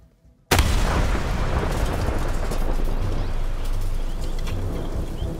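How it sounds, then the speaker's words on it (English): A powerful bomb blast set off as an explosives test hits with a sudden, very loud boom after a brief quiet start, then a dense rumbling roar and debris noise that stays loud for several seconds without fading. "Our high-speed camera gives a unique perspective of just how powerful this explosion was."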